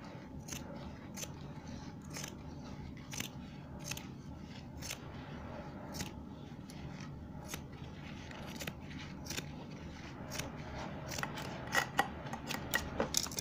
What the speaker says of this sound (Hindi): तो ये कैंची है, कैंची से जो हमने ये जो लाइन बनाई है ये सिलाई से इधर को हम इसको कट कर देते हैं।